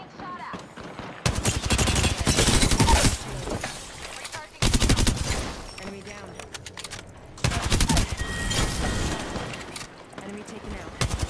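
Automatic gunfire in the shooter game Apex Legends, rattling out in three loud, sustained bursts separated by brief pauses.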